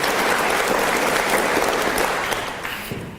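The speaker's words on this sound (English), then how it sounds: "let's give them a round of applause for what they do, serving on our board" Audience applause for board members at a faculty and staff gathering, a full, even roar of many clapping hands that tapers off toward the end.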